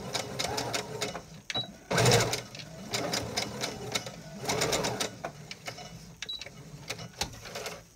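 Sewing machine backstitching a swimsuit top, its needle stitching in short bursts that start and stop several times, with mechanical clicks between runs, close and moderately loud.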